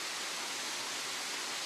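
The Ring waterfall on the Kartsadon River, where water pours through a hole in limestone, gives a constant, full roar of falling water, steady and close with no other sounds.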